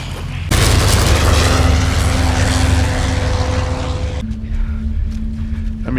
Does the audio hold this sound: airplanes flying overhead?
yes